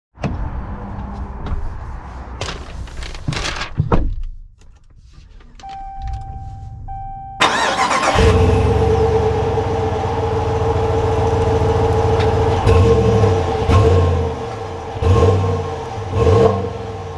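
A 2021 Ram 1500 Limited pickup is started and driven off: a few clicks and thumps, then the engine catches and settles into a steady hum, with a couple of revving surges toward the end.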